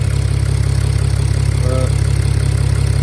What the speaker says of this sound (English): it's running fine. A bit loud because of the exhaust still being off